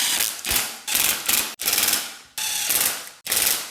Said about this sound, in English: Now at this point, I'm just gonna tighten them all the way around.